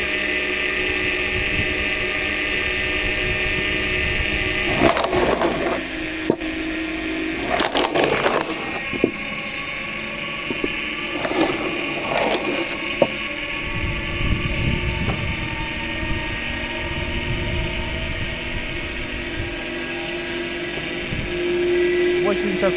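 A small homemade log splitter driven by a washing machine motor runs with a steady whine and hum, with several brief bursts of cracking and knocking as wood is split, all fairly close.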